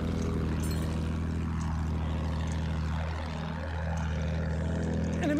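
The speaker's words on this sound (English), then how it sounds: "Enemy plane spotted!" An enemy propeller plane flies by in a video game. Its steady, droning engine hum is loud and continuous, with a brief dip and sweep in tone as it passes.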